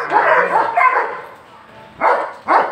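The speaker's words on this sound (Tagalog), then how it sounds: "Pure European Doberman, guys." A pure European Doberman barks in several short bursts, two close together, a pause, then two more, fairly near and loud.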